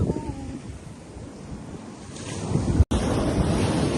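Large ocean waves crash on the shore in a steady, loud roar of surf, with strong wind buffeting the microphone and a brief dropout near the end.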